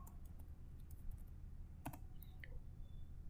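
Light, sparse typing on a computer keyboard as the flutter doctor command is entered into a command prompt, with a few soft scattered key clicks over a steady room hum.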